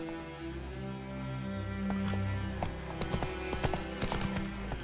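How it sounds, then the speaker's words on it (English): The horse's hooves clop in a galloping rhythm in The Witcher 3 video game, growing louder over a background of sustained game music. "Whoa there, Roach. Not so fast, Roach."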